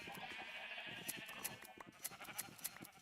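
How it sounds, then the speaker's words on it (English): Sheep in a video game bleating near the player, their calls mixed with a soft steady hum and a series of sharp clicking taps at irregular intervals, with no speech. "I think I have one of every color of sheep now."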